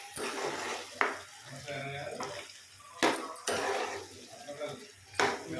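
A spoon stirs ridge gourd curry in a metal pan, giving sharp clanks and scrapes at irregular intervals over a faint background sizzle. The sound is close, with a few loud knocks against the pan, and no clear talking.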